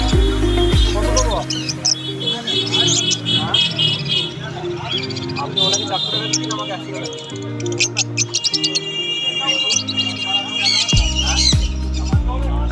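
Pet lovebirds and finches, including Fischer's and blue-masked lovebirds and Java sparrows, squawking and chirping at a bustling Sherampore bird market, with shrill calls layered over background chatter and someone talking throughout.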